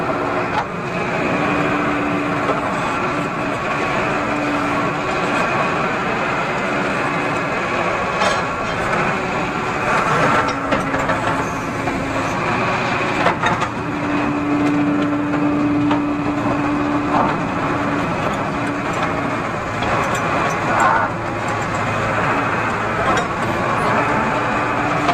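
A TATA JD 315 E backhoe loader works on rock at a pipeline dig, its diesel engine droning loud and continuous with faint clanks and scrapes throughout.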